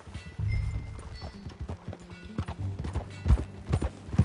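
Horse hooves clip-clop at a steady riding gait in Red Dead Redemption 2, close and distinct, with a brief whinny-like sound near the start and the hoofbeats growing louder toward the end.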